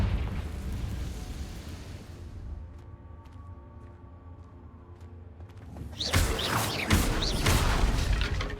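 A Confringo explosive spell goes off in the video game Hogwarts Legacy with a deep rumbling burst that fades into a quieter, ringing lull, followed by a second loud crackling blast with bright bursting detail.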